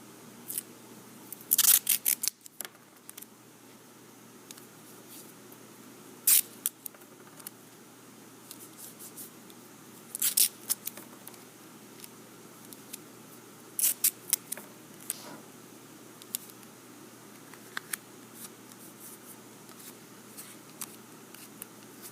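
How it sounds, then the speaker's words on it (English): Tape is pulled and pressed onto thin wood veneer pieces for marquetry, giving scattered short sharp rips and crackles separated by quiet pauses, close and fairly faint. "Let's tape them together."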